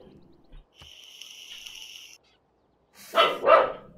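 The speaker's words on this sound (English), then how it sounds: "that's my dog." A pet dog barks twice in quick succession, loud and close, following a steady electronic tone and a quiet pause, with no talking.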